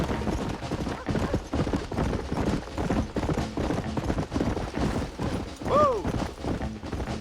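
In the video game Red Dead Redemption, a horse gallops in a rapid, steady clip-clop of hooves with rattling tack, close and continuous, and a short whinny near the end.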